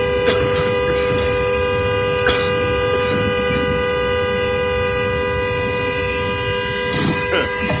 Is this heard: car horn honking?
yes